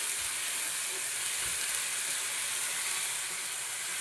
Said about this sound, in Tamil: இப்போ இஞ்சி பூண்டை நம்ம இப்படி வதக்கி நம்ம குழம்புல ஊற்றிக்கிறலாம்.